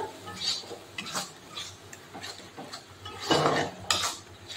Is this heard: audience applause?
no